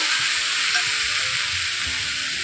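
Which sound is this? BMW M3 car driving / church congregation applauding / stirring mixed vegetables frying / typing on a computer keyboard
stirring mixed vegetables frying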